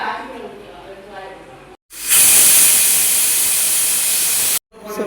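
Pressure cooker on a stove while ataukal (goat leg) soup cooks, giving a loud, steady steam hiss for about two and a half seconds that cuts off abruptly, with quieter kitchen sounds before it.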